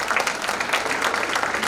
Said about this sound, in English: let's have a round of applause for all the Chamber team who is here today